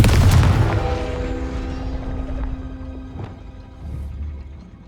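A Confringo fire spell in the Hogwarts Legacy video game bursts with a heavy boom that rolls away and fades over several seconds.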